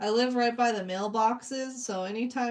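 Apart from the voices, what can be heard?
No everyday noise stands out behind the speech.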